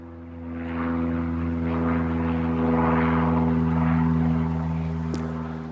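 A propeller airplane drones steadily overhead, a continuous low buzzing hum that swells slightly and holds for several seconds at moderate loudness, with no talk.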